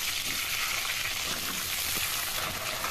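Pointed gourd (parwal) pieces frying in smoking-hot mustard oil, a steady dense sizzle that holds loud and continuous throughout with no talk.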